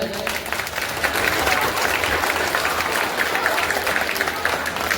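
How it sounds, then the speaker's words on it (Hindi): Loud, sustained applause from a crowd of students at a school prize distribution, dense clapping running steadily throughout with a few voices mixed in. "11वीं क्लास के बच्चों में जोरदार ताली हो जाए"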